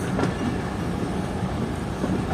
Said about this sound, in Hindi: ट्रेन हमारी डिपार्ट कर रही है शिकारपुर रेलवे स्टेशन से GMU 34809 के साथ।